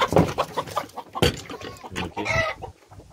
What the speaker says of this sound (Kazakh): Мен тауықтарымды шығарып жатырмын қазір.